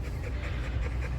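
Dog panting steadily in quick, breathy cycles close by, outdoors at a country park, with no talk over it.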